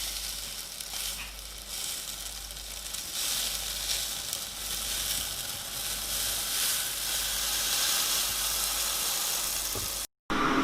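Waffle batter sizzles and hisses steadily inside a hot waffle iron as the lid is lowered, a continuous broadband frying noise that ends in a brief silence near the close.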